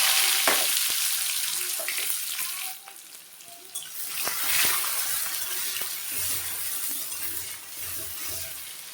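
Onions frying in oil tempered with cardamom, cinnamon and cloves, a steady close sizzle with scattered clinks and scrapes of stirring, for a fish curry.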